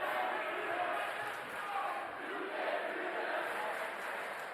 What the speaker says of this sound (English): And Chelmsford's crowd is alive right now.